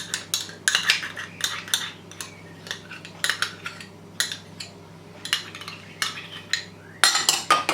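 Cream and mayonnaise are worked into chicken for Sufiani biryani, a spoon clinking and scraping against a bowl in quick repeated bursts, close and clear, with no talking.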